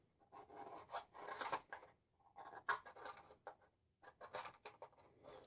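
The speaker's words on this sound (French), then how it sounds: "vous viendrez gratter la poudre." Scissors scrape powder off a matchbox striker in short, quiet bursts of dry rasping, close and irregular, separated by brief pauses.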